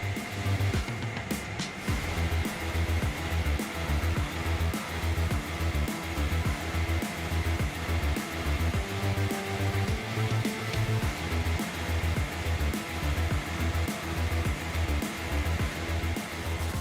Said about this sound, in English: LX870D wheel loader is equipped with a tree cutting system.